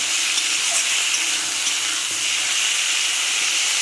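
Chopped tomato with salt frying in a pan for a fish curry, a steady, dense hiss of sizzling oil, close and loud, with no break in the sound.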